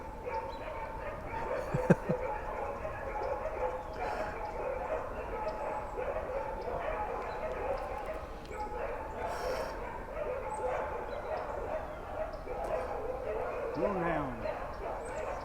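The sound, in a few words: dogs barking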